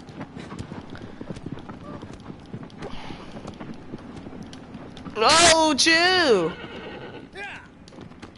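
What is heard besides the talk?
horse galloping and neighing in video game Shadow of the Colossus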